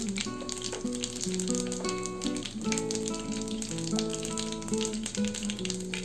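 Cumin and fenugreek seeds, along with mustard seeds, sizzle in hot oil in a pan, making a steady crackling hiss that sits beneath loud, continuous background music.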